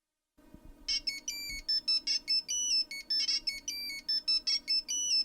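A mobile phone ringtone plays alone, a bright electronic melody of quick beeping notes repeating in a steady pattern.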